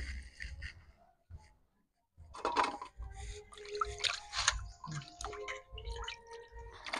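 Pieces of aar fish washed by hand in a basin of water, with soft splashes, drips and squishy handling noises in bursts after a brief pause, close and moderately quiet.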